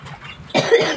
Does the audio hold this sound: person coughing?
yes